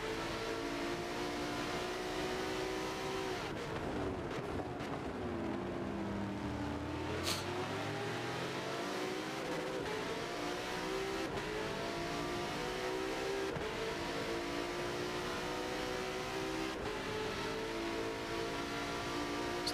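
Bentley race cars at Spa-Francorchamps in a racing game make a continuous, fairly faint engine drone whose pitch dips and climbs through gear changes and corners.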